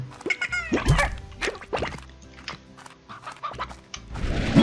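Chickens in the game Slime Rancher cluck in short, uneven bursts, fairly close and clear, with squawky calls spread through a few seconds and no speech.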